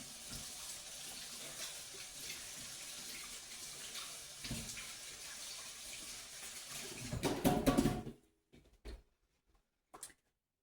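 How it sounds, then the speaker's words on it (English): A kitchen tap runs loudly and steadily while hands are washed under it during biscuit baking. The water splashes close by for about eight seconds and then stops, leaving a few brief handling clatters. "I'm going to wash my hands real quick."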